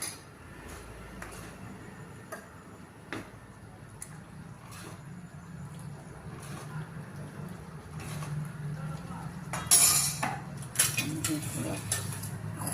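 Cooked colocasia leaf (aluchi) vegetable being transferred from a pan into a serving dish, with scattered utensil clinks and soft scraping over a low steady background hum, growing busier near the end.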